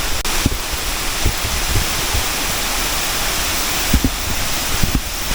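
Steady broadband rush of water falling from a height at a waterfall in the Darjeeling hills, a continuous dense roar with no voices.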